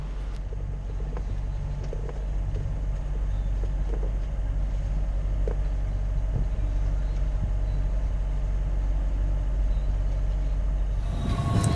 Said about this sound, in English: So we're under motor as there's only 4 knots of wind, but it's straight into our face